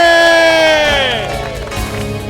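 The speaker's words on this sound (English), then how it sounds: "So big cheer for everybody here." Crowd cheering and whooping at a dragon boat race, a loud burst of voices that fades slightly and then carries on at a lower level.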